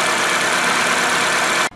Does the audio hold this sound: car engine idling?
yes